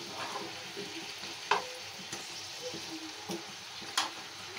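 Potatoes frying in hot oil for a chicken and potato curry sizzle steadily while being stirred, with occasional clinks and scrapes of the spoon against the pan and no voices.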